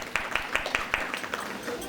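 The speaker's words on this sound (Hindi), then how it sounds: "तालियां बजाइए, देखिए बच्चे ने बता दिया।" An audience at a spiritual talk claps hands in a quick, steady rhythm of sharp, fairly close claps, with a voice heard faintly beneath.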